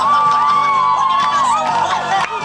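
An audience at a live family restaurant stage show with an animatronic Chuck E. Cheese band cheers loudly, a dense crowd of whoops and children's shouts over sustained music, close and continuous.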